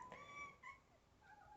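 A pet house cat makes a brief faint meow-like cry, a couple of thin tonal calls off in the background of a quiet room, soft and slightly distant, with no talking over it.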